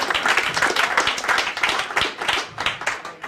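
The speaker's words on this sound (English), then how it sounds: "Start clapping for Joey Rimatello." Comedy club audience at Gotham Comedy Club applauding a comedian onto the stage, dense close clapping that stays steady throughout.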